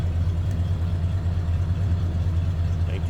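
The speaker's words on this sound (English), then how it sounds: "Slip around to the back so you can hear that run on the low idle." A 1978 Cadillac Eldorado's engine runs at low idle, heard from the rear of the car as a steady deep rumble with a faint even pulse, no voices.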